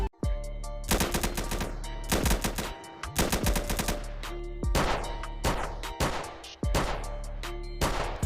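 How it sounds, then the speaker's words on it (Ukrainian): Rapid automatic gunfire from the mobile game SAMP (GTA San Andreas Multiplayer), loud repeated bursts of shots in quick rhythm separated by brief pauses, sharp and close. "я окремо ще вам вставлю відос, де ви почуєте звуки стрільби на цій зборочці"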